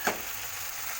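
Potatoes with ginger-garlic paste, cumin and turmeric fry in a pan for an egg curry, giving a short steady sizzle that opens with one brief scrape, heard alone.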